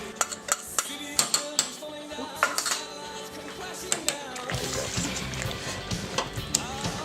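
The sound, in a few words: mixing tuna pasta with cheese in a pan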